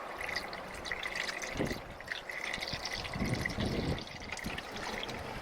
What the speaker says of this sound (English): Splashing out a little bit.